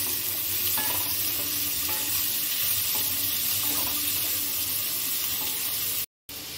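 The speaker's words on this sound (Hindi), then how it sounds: "ये 1 कटी हुई टमाटर और ये थोड़ा सा अदरक कुटा हुआ, और इन दोनों को भी मैं थोड़ा सा फ्राई कर लूंगी।" Chopped tomato and crushed ginger fry for khichdi in a pan with a steady close sizzle and occasional stirring, continuing without a break until a brief cut of silence near the end.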